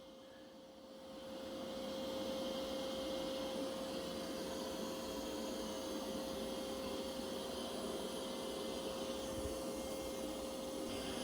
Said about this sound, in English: It's going to be an excellent vacuum.